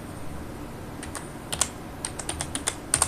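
Keystrokes on a computer keyboard while entering a spreadsheet formula, a few faint scattered taps at first, then a quicker cluster of clicks toward the end, close and quiet over low room hiss.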